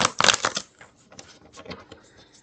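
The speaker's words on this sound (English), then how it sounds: "Let's get some good shuffling here." Tarot cards shuffled by hand during a Scorpio love reading, giving a dense burst of riffling, papery flutters up close, then scattered lighter card slides and taps, with no talk.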